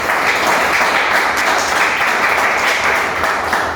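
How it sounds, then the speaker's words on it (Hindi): An audience at the opening of a knowledge centre meeting claps steadily and loudly for the whole stretch, a dense continuous round of applause. "ताली बजा दीजिए"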